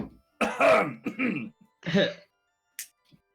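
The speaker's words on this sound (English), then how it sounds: "will just cough to try and get the attention" A woman coughs and clears her throat to draw attention at a table, a few short hoarse bursts close by, followed by a faint click.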